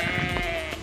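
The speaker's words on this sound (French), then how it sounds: "Il est mouton, hein?" A sheep bleats once, close and loud, a quavering sustained cry out on a walk near stables.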